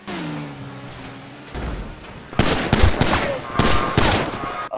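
Rapid bursts of gunfire crack out in a shooter video game, starting after a low engine drone and then firing in loud, closely spaced volleys that dominate the second half.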